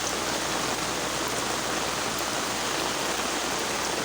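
Constant rushing water fills the whole clip, a dense, steady roar of a canal flooded after rain, close and loud with no voices.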